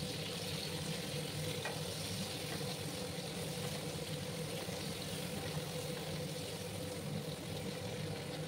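Ridge gourd sizzles steadily in hot ghee as it is stirred and mixed in a pan, a continuous close frying crackle with faint scraping and no talk.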